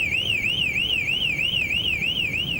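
A BMW 7 Series E38 car alarm wails with a steady, rapidly rising and falling electronic siren tone. It is loud and continuous over a low background rumble.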